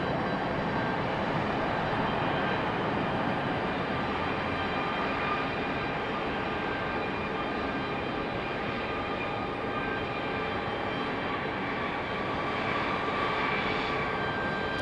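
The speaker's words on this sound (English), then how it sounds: "Our 757 is sitting out at the runway," Boeing 757 jet at the end of an airport runway, a constant loud engine roar and whine held steady throughout with no other sounds.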